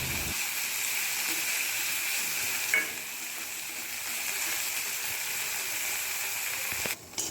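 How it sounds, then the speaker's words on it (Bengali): Prawns frying in hot oil while being stirred, a dense steady hiss of sizzling with a faint utensil scrape midway and a brief dip near the end, close and continuous. "এবার চিংড়ি মাছগুলোকে ভালো করে নাড়াচাড়া করে কিছুক্ষণ ধরে ভেজে নিচ্ছি।"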